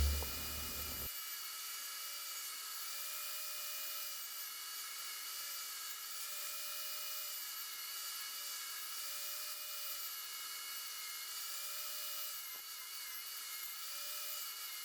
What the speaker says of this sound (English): I fix up some of that sloppiness with my belt sander